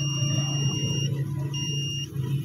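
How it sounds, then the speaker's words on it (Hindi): An engine oil tester at an oil change shop gives a thin electronic tone, heard as two short steady beeps separated by a brief gap, over a loud low shop hum. "इसकी बीप आएगी,"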